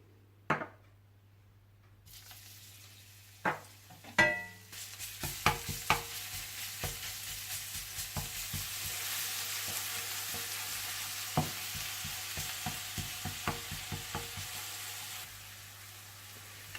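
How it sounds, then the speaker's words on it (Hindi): Garlic sizzles and fries in hot oil in a pan, a soft crackling hiss with repeated sharp taps and stirring scrapes, fairly quiet and close, with no talking. "आप तेल गरम कर लीजिए और इसमें लहसुन को थोड़ा सा फ्राई कर लीजिए।"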